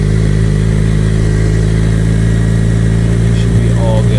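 Motorcycle engine idling and running steadily at low speed while the rider works the clutch and brakes, a constant loud drone throughout with a slight rise near the end.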